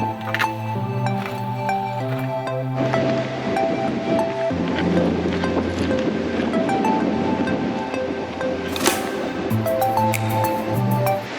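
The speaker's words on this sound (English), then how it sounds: "So windy." Strong wind roars steadily, buffeting the microphone, with a low engine-like drone and tonal hum underneath; no one speaks.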